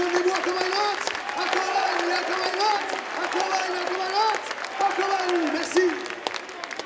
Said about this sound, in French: on peut leur faire un tonnerre d'applaudissements